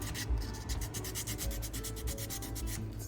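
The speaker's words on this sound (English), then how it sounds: "So we're going to sand" Bicycle brake pads are sanded to expose fresh rubber, a close, steady rhythmic rubbing and scraping repeated in quick back-and-forth strokes without any talk.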